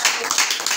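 A congregation at a church service claps in a quick burst of several hand claps, close and fairly loud, lasting under a second.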